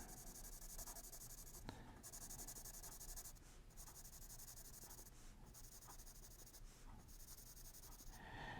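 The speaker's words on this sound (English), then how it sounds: "I'm finding it a little bit more difficult to control my shading with this pencil" A Dollar Tree Jot graphite pencil shading on paper: a continuous close, quiet scratchy rubbing in back-and-forth strokes, broken by a few brief pauses and small taps, with no talking.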